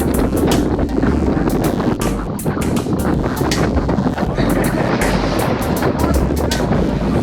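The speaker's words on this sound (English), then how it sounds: "You can hear the wind." Strong wind buffeting a microphone during a group bike ride in Shiro, Texas, a steady loud roar with gusty rumbling and intermittent clicks throughout.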